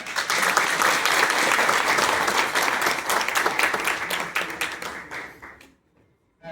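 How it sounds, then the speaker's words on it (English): An audience at a foundation-stone ceremony for a skilling centre for people with disabilities bursts into loud, dense applause, which thins and fades into silence near the end. "Can you give her a big clap?"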